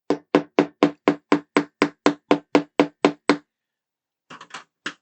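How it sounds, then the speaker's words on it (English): A small hammer taps an oil hose fitting into a Jeff Gordon Chevrolet Monte Carlo model car, giving thirteen crisp, evenly spaced close knocks, then a pause and a few quicker, lighter taps. "I'm going to give it a little tap with my hammer."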